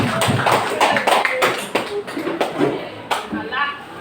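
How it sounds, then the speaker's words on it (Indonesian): A group of schoolchildren in a classroom claps hands together, a dense run of sharp irregular claps up close, with some voices mixed in. "Tepuk tangan semuanya."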